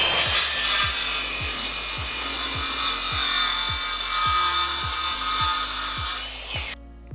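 A circular saw guided along the edge of a sheet, cutting steadily with a continuous loud whining rasp and a regular pulsing rhythm, then stopping abruptly near the end as the cut finishes.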